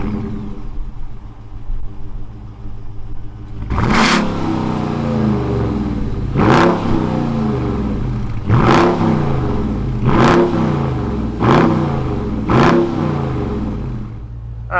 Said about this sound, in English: let's fire up this Hemi and see what it sounds like